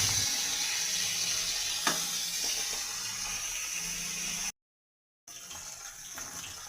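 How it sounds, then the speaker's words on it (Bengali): Lote fish frying in hot oil four pieces at a time, a steady close hiss of bubbling oil with a few faint clinks, cut by a brief silent gap before the frying resumes. "চারটে চারটে করে মাছ ভাজছি।"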